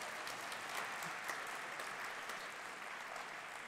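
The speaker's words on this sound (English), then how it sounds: "And yes, round of applause." Applause from the audience at an alumni homecoming celebration, a soft, distant, even patter of many hands clapping steadily with no voices on top.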